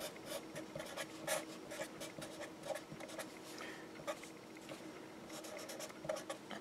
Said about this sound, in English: I'm just going to write this.